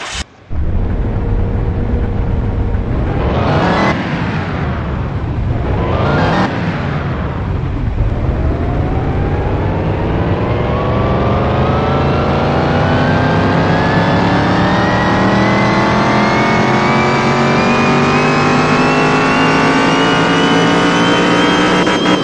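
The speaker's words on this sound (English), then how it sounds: "it is finally time to take this car to the dyno and see how fast we made this car" A 1978 Pontiac Firebird engine runs loud on a dyno, revving up sharply twice before settling into one long, steadily climbing full-throttle pull, with no voices over it.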